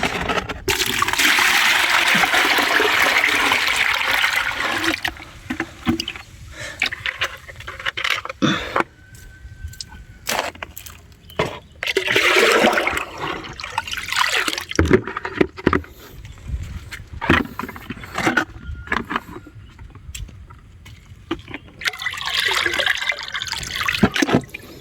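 Fermented soil-microbe liquid is poured out in uneven bursts, with close gushing and trickling that stops and restarts several times and small splashes in between, and no talking.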